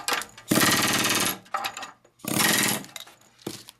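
An air hammer rattles in short loud bursts against seat bolts, two longer stretches of rapid hammering with brief choppy bits between them, close up.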